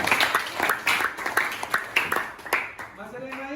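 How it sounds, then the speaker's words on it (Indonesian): A classroom of students clapping hands together in a school lesson, a rapid run of sharp, close claps that comes in uneven bursts and thins out toward the end. "Tepuk tangan Pak Guru."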